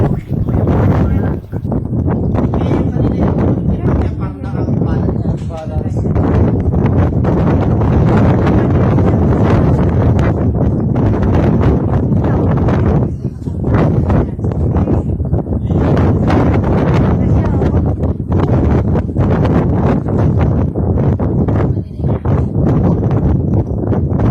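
Strong wind on Mt. Riwata in Rizal buffets the microphone in a constant roar with gusty swells, loud and close throughout.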